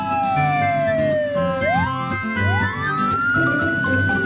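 A police car siren wails loudly and continuously, its pitch sweeping down and back up in long glides, close by and steady, in a children's cartoon.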